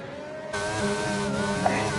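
Racing car engine in a Suzuka sim race, droning steadily at high revs with stable harmonic tones, loud and continuous throughout with no talk over it.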